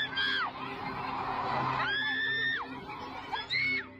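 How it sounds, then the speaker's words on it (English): A woman screams loudly and piercingly in long, wavering shrieks at a coffee shop, with three drawn-out cries separated by brief gaps over a busy crowd murmur, close and dominant. "until loud shouts of a woman were heard"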